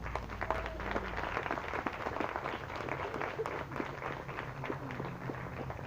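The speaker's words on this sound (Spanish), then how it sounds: "Le damos un aplauso a Cristo" Faint, distant clapping from a Spanish-language church congregation, a soft continuous patter of many hands with scattered sharper claps and some shuffling underneath.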